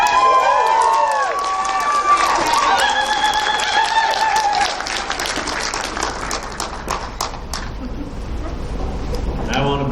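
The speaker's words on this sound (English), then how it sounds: "Let's give Mr. Watts a round of applause, ladies and gentlemen" A slam poetry event audience breaks into loud applause and cheering for a poet, a dense sustained roar of clapping and shouting that continues strongly before easing slightly.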